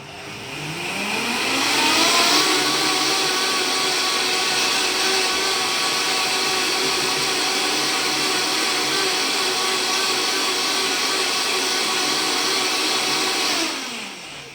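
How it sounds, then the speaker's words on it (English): A kitchen blender whirs through a creamy plant-based carbonara sauce, its motor spinning up quickly to a loud, steady whine that holds for about twelve seconds before winding down at the end. "I will blend it even a little bit longer."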